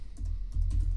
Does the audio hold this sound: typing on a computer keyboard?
yes